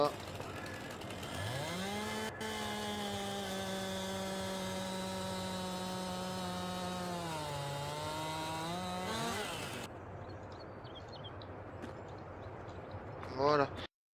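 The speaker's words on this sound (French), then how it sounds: "il me faut une tronçonneuse" In Farming Simulator 22, a chainsaw revs up and holds a loud, buzzing drone while cutting through wood, its pitch dipping briefly under load before it cuts off, followed by quieter game sounds.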